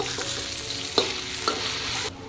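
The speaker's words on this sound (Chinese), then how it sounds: "小火煎牛排" Beef steak pan-frying over low heat, with a continuous close sizzle and two light utensil clinks as the meat is moved in the pan.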